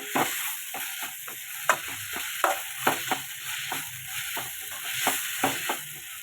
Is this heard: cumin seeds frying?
yes